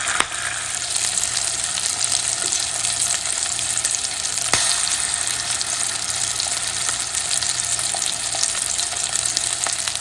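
Sausage fries in a pan with a dense, steady sizzle and scattered crackles, close and fairly loud throughout, with no voices.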